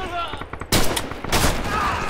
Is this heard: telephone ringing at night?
no